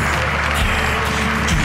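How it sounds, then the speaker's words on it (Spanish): An audience applauds loudly and continuously at the close of a Spanish storytelling radio programme, a dense, even roar of many clapping hands throughout. "Y otro aplauso para el gran Fran Izuzquiza."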